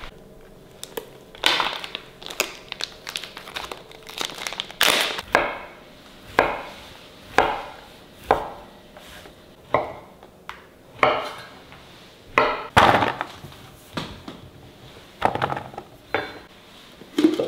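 A knife chops tempeh and stink beans on a board, a steady series of sharp, close thuds spaced about a second apart, heard alone in a quiet home kitchen.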